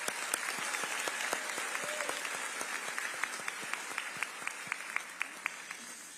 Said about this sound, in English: We can give him a round of applause for that.